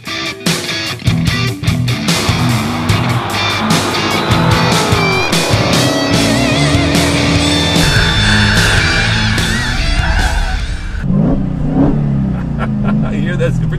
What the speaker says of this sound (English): You hear that supercharger whine?